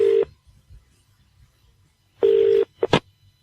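A phone number is keyed in on a telephone, giving a short bright tone burst, a pause, then a longer tone and two quick final beeps, clear and close with no voices.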